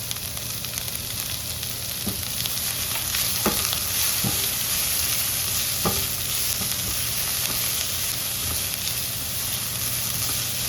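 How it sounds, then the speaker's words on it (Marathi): Onions and green chilies sizzle steadily in a hot pan for matki usal, with a few sharp scraping stirs of the spoon breaking through the constant close frying hiss. "कांदाही थोडा लाल होऊ द्यायचा, थोडा मऊ झाला की चालतो. मिरच्या टाकायच्या."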